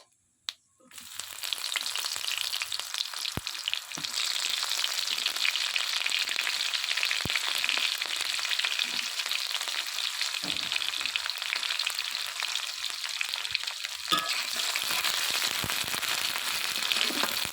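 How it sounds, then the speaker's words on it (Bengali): Onions frying in hot oil in a pan, a loud continuous sizzle that starts abruptly after a brief silence, with a few sharp knocks of a stirring utensil along the way. "পেঁয়াজটাকে ভালো করে লাল করে নেব"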